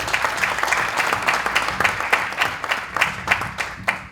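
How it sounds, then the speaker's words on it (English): An audience applauding a keynote speaker at a business event, dense clapping from many hands with a few louder individual claps standing out over a low hum. "Give him a big applause, please."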